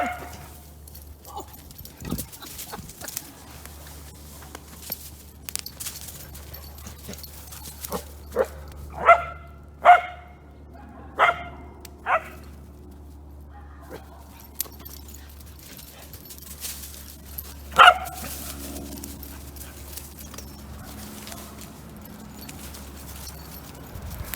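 Two dogs playing roughly together let out scattered sharp barks, clustered in a rapid run midway and one louder bark later, over quiet background noise with occasional low speech.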